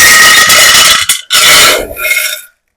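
A loud, harsh clatter of rocks poured into a metal container, rattling in two rushing waves before stopping abruptly.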